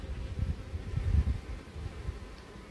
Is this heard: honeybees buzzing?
yes